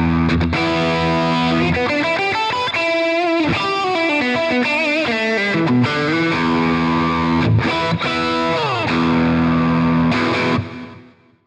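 Distorted electric guitar played through the middle pickup rings out in chords and quick melodic runs, loud and close, before fading out at the end.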